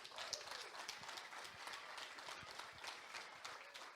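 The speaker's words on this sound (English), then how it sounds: "Give a nice round of applause to the 8 finalists." Crowd applause for the eight finalists at the Leitrim Boxty Festival, a steady dense patter of clapping at moderate distance that fills the whole stretch without break.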